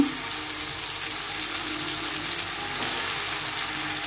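Sliced brinjal hits a hot pan and sizzles in a loud, even, hissing fry that fills the whole few seconds. Up close, it is steady and unbroken, with no voices.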